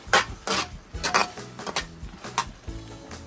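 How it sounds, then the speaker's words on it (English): A spoon stirring coconut curry with softened carrots and potatoes in a pot, giving several close, irregular scraping clinks against the metal, with no talk. "Give it a stir."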